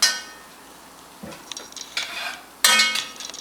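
A child stirs caramelizing onions in a pan: sporadic scrapes and light clinks of the utensil against the pan, with a louder burst of scraping near the end.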